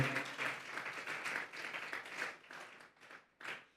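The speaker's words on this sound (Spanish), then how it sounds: "Vamos a darle una ofrenda de palmas a Dios en esta tarde." A church congregation claps together, a moderate, fairly quiet round of applause with uneven swells that tapers into a few scattered claps near the end.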